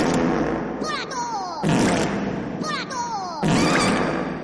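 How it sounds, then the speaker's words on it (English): Cartoon fart sound effects fired off in sequence as a mock gun salute in an animated film, a series of loud bursts with squeaky pitch sweeps, repeated about every second under busy mixed sound. "The 21 fart gun salute!"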